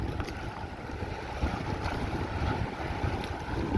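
Strong cyclone wind roars steadily over open sea off Jaffna, with surf rumbling underneath and gusts buffeting the microphone.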